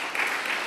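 Audience applause at a State of the City address in Saint Paul, a steady wash of clapping from a crowd filling the brief moment without any voices over it.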